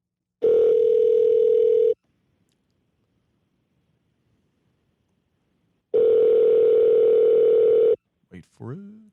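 A phone call ringing out unanswered: two long, steady, loud ringback tones about four seconds apart, a silent gap between them, then a brief voice starting up at the end.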